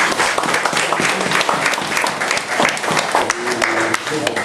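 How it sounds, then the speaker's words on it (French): Audience applause at a prayer service led by a prophet, a busy spread of clapping across the whole stretch with a voice briefly rising over it near the end. "On va applaudir."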